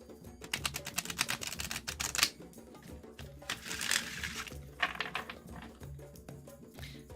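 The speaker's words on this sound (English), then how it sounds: "The deck that I can actually get away with shuffling." Tarot deck shuffled by hand, a rapid run of dense crisp card riffles and slaps in bursts, close and moderately loud, with brief pauses between flurries.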